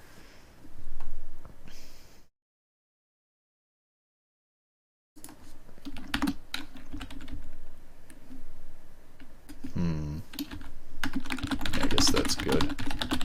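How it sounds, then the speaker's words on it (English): Typing on a cheap Logitech computer keyboard during a programming session: rapid, uneven key clicks in bursts, broken by a few seconds of silence, then continuing with occasional louder clacks and faint talk underneath. "modify some cheap keyboard, because the one I got is a pain to type on."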